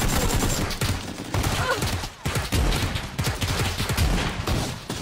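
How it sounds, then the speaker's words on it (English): Repeated shotgun blasts in a video game firefight, loud and close, coming in quick bursts with short gaps, over constant rumbling game noise. "I fucking shot him twice with a shotgun"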